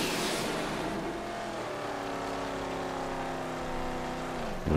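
An enemy car's engine drones in the post-apocalyptic video game Mad Max, a steady, loud motor hum that holds an even pitch and slowly slides lower before fading.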